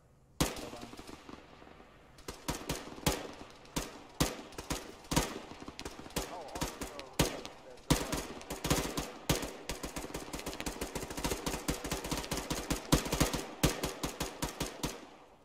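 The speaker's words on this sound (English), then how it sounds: "watch out, we're getting shot at" Bursts of automatic rifle and machine-gun fire from a war video game crackle in rapid, irregular volleys across the whole stretch, loud and dense, with faint voices now and then beneath the shooting.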